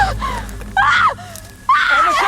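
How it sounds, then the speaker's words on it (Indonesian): A boy screams in a horror film, with three loud, high, wavering cries separated by short pauses over low background rumble. "Emerson berteriak."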